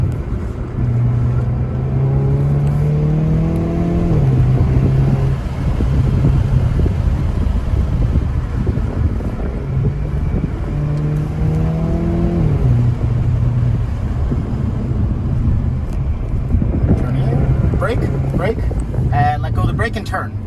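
A car engine revs up and climbs during a fast driving lesson, a steady loud interior drone with rising pitch sweeps, while an instructor talks over it.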